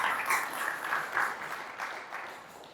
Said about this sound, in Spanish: Dale un aplauso al Señor con confianza, con firmeza